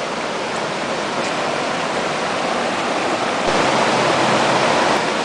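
Clean water rushes in a loud, steady, close roar, like a stream or small waterfall, with no voices over it.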